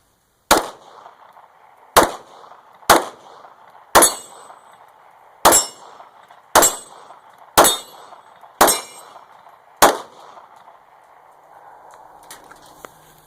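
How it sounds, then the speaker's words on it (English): Nine pistol shots from a Glock 26 Gen 4 9mm, each followed by a sharp metallic clang as rounds strike a steel dueling tree at an outdoor range, spaced roughly a second apart and loud with brief ringing decay. "We'll try to go for the dueling tree over here and see what we can do"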